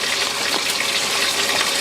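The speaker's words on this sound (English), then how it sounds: "I'm going to wash my hands because" Tap water gushing steadily from a faucet while hands are washed in a camper kitchen, a loud continuous hissing flow with no talking.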